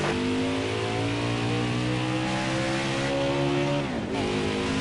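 Race car engines roaring at the Daytona 500, a loud sustained drone of revving motors with shifting pitch throughout and no talking.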